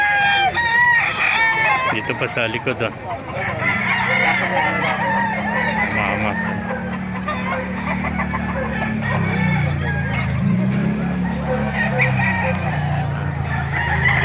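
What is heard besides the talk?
roosters crowing at a chicken market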